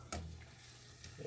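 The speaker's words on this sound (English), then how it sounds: "when you're frying these, you don't want them to stay in there too long" Doughnuts fry in hot oil with a steady soft sizzle and bubbling, with a couple of faint utensil clicks over the top.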